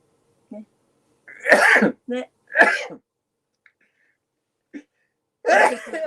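A few short, sharp bursts like sneezes or coughs close to the mic, separated by silence, with small clicks and a faint breath between.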